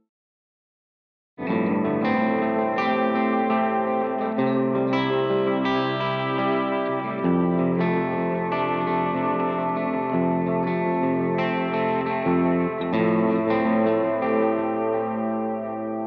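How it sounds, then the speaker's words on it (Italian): Electric guitar played through a stereo delay effect, engaged with a double press on a Morningstar MC6 Pro footswitch controller, rings out with sustained notes and echoing repeats after a short silence, steady and loud without speech. "Con un doppio clic attivo un delay stereo"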